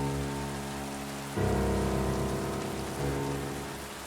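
Light rain falls on a city street as a steady, dense hiss, with a low drone underneath that swells twice.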